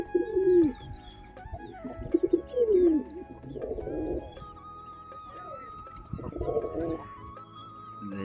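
Pigeons kept in a cage coo in several low, rolling phrases, close by and fairly loud, with brief pauses between calls and faint other bird chirps in the background.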